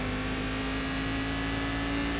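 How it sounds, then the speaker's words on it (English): Turbocharged race car engine in iRacing at VIR during a Fanatec Global Challenge, a steady droning hum with a constant whine held at one pitch, moderately loud, with no speech. "Sounds like this thing's probably got a turbo"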